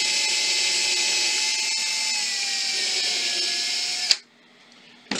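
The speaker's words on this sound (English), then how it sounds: "For this little drill bit I'm using, I know that I have to go halfway on the drill portion" A small bit in a power drill whines steadily and loudly for about four seconds as it bores a hole for a canjo tuner, then stops abruptly, leaving a faint hum.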